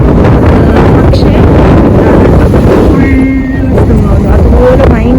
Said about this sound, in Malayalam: അതുപോലെ ഭയങ്കര കാറ്റുമാണ്.